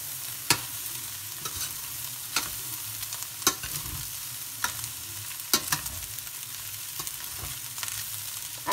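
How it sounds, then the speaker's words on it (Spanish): Fried rice being stirred in a pan, with a steady sizzle broken by sharp scraping clicks of the utensil against the metal every second or so, close and alone without talk. "Removemos."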